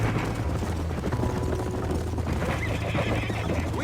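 A horse in a Red Dead Redemption game scene whinnies and snorts over steady clip-clop hoofbeats, with a constant low rumble underneath, loud and close throughout.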